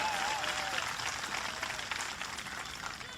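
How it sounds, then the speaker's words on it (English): Continuing applause from a political rally audience, a steady, moderate wash of clapping with murmuring crowd voices beneath, gradually thinning toward the end. "Big round of applause."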